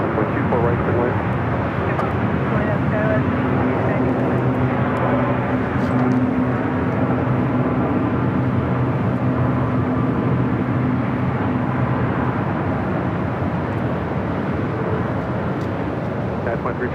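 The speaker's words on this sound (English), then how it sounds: "We do have a couple of 777 300ER is going to be taken off on the south side" A Boeing 777-300ER roars during takeoff at LAX, a loud, sustained, broadband jet engine rumble that fills the whole stretch with little change in level.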